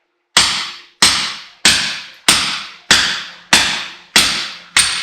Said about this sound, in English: back to the old hatchet